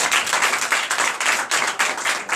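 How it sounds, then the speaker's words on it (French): Sustained applause from a church congregation at a Sunday service in Benin, dense and steady clapping with slight swells, filling the whole stretch. "Donnez l'acclamation au Seigneur Jésus"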